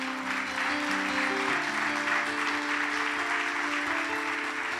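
Church congregation applauding after a sermon, dense continuous clapping that fills the whole stretch at steady loudness, with a sustained organ or keyboard chord held beneath it.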